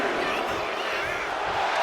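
A virtual arena crowd in the wrestling video game WWE 2K25 roars steadily during a women's match, a dense, loud wall of cheering and shouting with no breaks.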